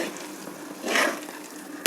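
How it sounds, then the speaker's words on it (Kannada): A thick sweet mixture for a festival snack is stirred in a pan with a soft, steady scraping and faint sizzle, quiet throughout with a brief clatter at the close. "ಈ ಟೈಮಲ್ಲಿ ಕೈ ಬಿಡದೆ ಮಿಕ್ಸ್ ಮಾಡ್ತಾ ಇರಬೇಕು"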